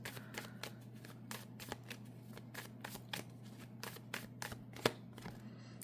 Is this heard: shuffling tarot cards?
yes